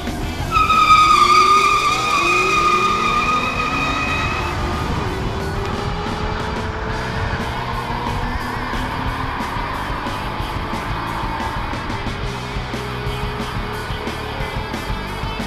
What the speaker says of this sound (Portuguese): o equipamento usado pela imprensa foi o Mustang 2012 de 6 cilindros e transmissão automática.